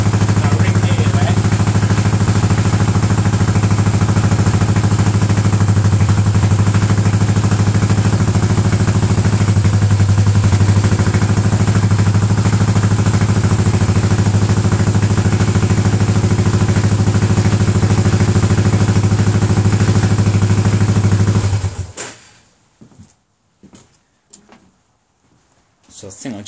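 A Yamaha SR250 motorcycle engine runs steadily in gear, loud and close with a strong low hum, then cuts off abruptly near the end, leaving a few faint clunks and knocks.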